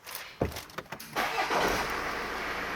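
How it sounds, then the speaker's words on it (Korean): A BMW X3 diesel engine with an EGR fault cranks with a few sharp clicks, then catches and settles into a steady, rumbling idle close by. "일단 시동 한번 걸어볼게요"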